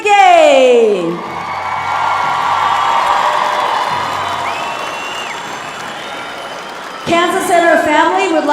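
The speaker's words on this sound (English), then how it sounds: "let's give her a big round of applause, Kay. Kansas Begay!" An audience at the Gathering of Nations powwow applauds and cheers for Miss Indian World, a broad wash of clapping and whoops that swells under an announcer's voice at the start and again near the end.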